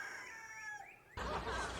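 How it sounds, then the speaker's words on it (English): A rooster on a backyard homestead crows a long, rising and falling call at moderate distance, ending abruptly as a louder broadband rush of outdoor noise takes over. "There's the rooster."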